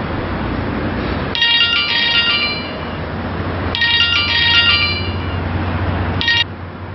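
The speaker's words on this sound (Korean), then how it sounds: "제가 전화 한번 해볼게요." Telephone ringback tone during an outgoing call, heard as three bursts of bright electronic ringing separated by pauses over a low steady background hum.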